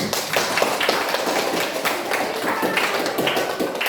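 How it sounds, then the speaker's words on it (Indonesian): Students in a classroom clap together after group answers are read out, a dense, brisk patter of many hands that stays loud and even from start to finish, close by and without talk. "Tepuk tangan"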